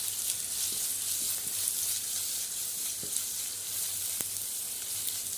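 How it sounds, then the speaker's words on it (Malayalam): Onions fry with ginger, green chili and crushed garlic for a chicken curry, giving a steady soft sizzle up close, with occasional faint stirring taps and no talking. "ഇനി അപ്പോൾ ഇതിലേക്ക് ഇഞ്ചിയും പച്ചമുളകും വെളുത്തുള്ളി ചതച്ചിട്ട് കൊടുക്കട്ടെ."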